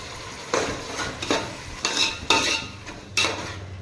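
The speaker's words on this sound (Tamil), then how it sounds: "இதெல்லாம் ஒன்றா வதங்கட்டும்." Tomato with ginger garlic paste sautéing in a pan, a soft sizzle broken by five or six sharp spoon scrapes and stirs at an uneven rhythm, close and alone.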